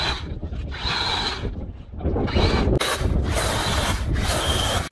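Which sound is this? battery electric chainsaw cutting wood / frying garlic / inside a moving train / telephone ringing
battery electric chainsaw cutting wood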